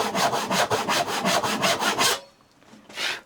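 A hand saw rasps across wood to cut a joinery shoulder: about a dozen quick, even back-and-forth strokes up close, then a brief pause and a couple of lighter final strokes.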